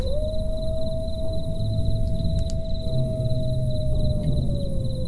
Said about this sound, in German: Wölfe sind auch dabei.